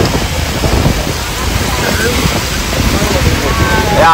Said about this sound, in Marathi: हे बघा पाऊस, बघा समुद्र, नांग बघा नांग, आणि खवळलाय समुद्र